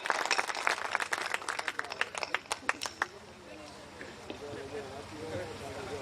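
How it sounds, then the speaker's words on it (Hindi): Audience at a poetry gathering gives a strong round of applause to welcome a poet, dense clapping for about three seconds, then fading into crowd murmur and chatter. "दोनों हाथ ऊपर लाकर जोरदार तालियां बजा करके अभिनंदन करें"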